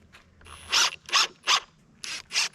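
A power driver presets screws into a woodshed wall post in quick whirring bursts, about five or six short close grinding pulses with brief gaps between them.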